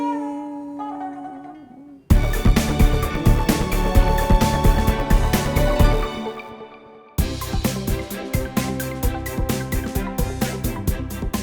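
Azerbaijani tar, a plucked long-necked stringed instrument, heard loud and close in fast, dense strummed and picked passages, with a quieter sustained opening before bursting in and a brief pause midway.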